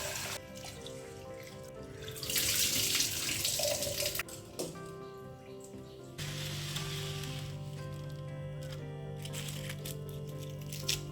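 Tap water runs steadily into a sink while basmati rice for biryani is washed, a close, hissing splash that swells and shifts as the grains are stirred.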